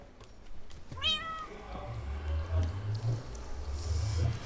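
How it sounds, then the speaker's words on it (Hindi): A cat in the video game Minecraft lets out a single clear, rising-then-falling meow early on, followed by a low, uneven background rumble with faint thumps. "तू मेरी बिल्ली नहीं है, इतनी शैतान नहीं होती मेरी बिल्ली।"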